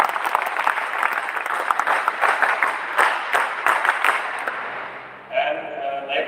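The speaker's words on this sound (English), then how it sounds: "a big round of applause for yourself" A crowd of National Cadet Corps cadets applauds loudly and steadily for several seconds at a Republic Day contingent event, then the clapping fades and a voice begins speaking.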